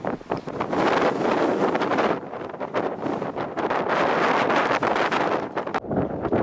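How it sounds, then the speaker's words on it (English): Strong wind buffets the microphone in loud, gusty roars that rise and fall, with rushing air dominating throughout. "it's got very windy"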